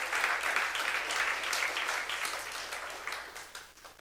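A Korean church congregation at a youth service claps together in a dense, steady round of applause that gradually thins and fades over about four seconds.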